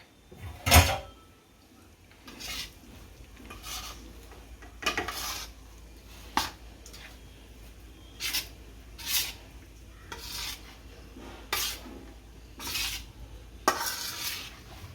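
Grated coconut stirred into a warm churma ladoo mixture in a home kitchen: a spoon scrapes and knocks against the vessel in separate bursts every second or two, close and fairly quiet, with no voices.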